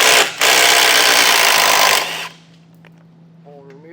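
A power tool whirs loudly and steadily for about two seconds, removing an 11mm fastener on the washer fluid reservoir of a 2017 Ford Explorer, then stops abruptly, leaving quiet room tone.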